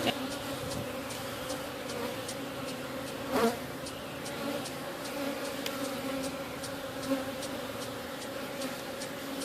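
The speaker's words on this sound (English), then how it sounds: "there's just a lot of bees in here" Dense, steady buzzing of many honey bees at close range inside a hive being split, a continuous hum with a brief louder swell partway through.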